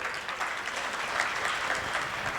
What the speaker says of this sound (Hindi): तो इनके लिए भी जोरदार ताली लगाएं